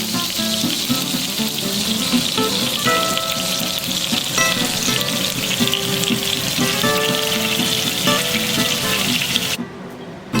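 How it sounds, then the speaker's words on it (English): Fish fillets sear in a hot pan with a loud, continuous sizzle and faint tonal clinks and whines running through it, cutting off abruptly near the end. "we've seared them up. We've got the fillets all taken care of."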